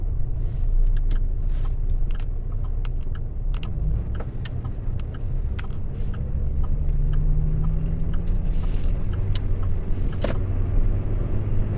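A car drives through busy traffic following a white truck, with a loud, steady road and engine rumble and scattered small clicks and knocks from inside the cabin. No one speaks.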